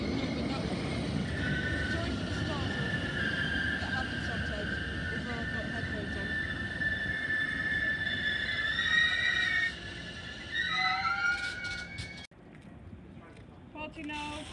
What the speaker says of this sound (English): The London Overground train going to London Euston.